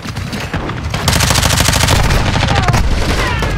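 Rapid automatic gunfire from the Call of Duty multiplayer map Shipment, loud and continuous bursts of shots with dense overlapping reports through most of the stretch, no talk over it.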